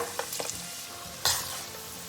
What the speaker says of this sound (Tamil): பபிள்ஸ் ஃபுல்லாக அடங்கிடுச்சு பாருங்க இந்த சமயத்தில் எடுத்துடலாம் சத்தமே பாருங்க சலசலன்னு இருக்கு